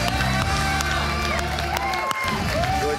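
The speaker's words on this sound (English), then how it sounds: "Team, let's all be proud and cheer for Giuliana." A crowd at a talent show cheers and applauds for a young contestant, the noise loud and steady throughout with whistles and shouts mixed in.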